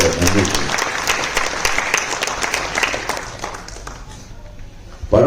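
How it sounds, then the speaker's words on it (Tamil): An audience at a Tamil film event honouring a director breaks into loud, sustained applause that gradually thins and fades before cutting off. "ஒரு பலத்த கரவசத்தோட நன்றி"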